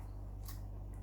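Dull secateurs snipping dry plant material into fine pieces, a single muffled cut near the middle of the clip with a fainter one at the end over a steady low hum.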